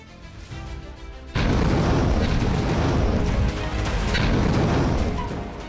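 War news footage of explosions from the Russia–Ukraine war: a low rumble gives way to a sudden loud blast, followed by a sustained roaring boom and crackle that slowly fades, with no voices.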